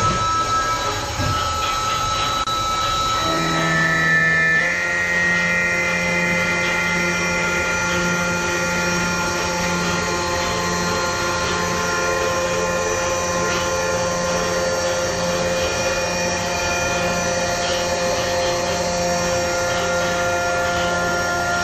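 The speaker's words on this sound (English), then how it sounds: "so that you can listen to all of the spindle speed changes that we've been talking about" A CNC machine spindle whines steadily through several speed changes, with sustained tonal lines that step to new pitches over a constant machine hum.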